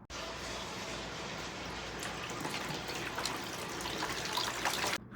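A tap runs steadily into water during a pedicure, a constant broad hiss with faint splashes that cuts off sharply at the end.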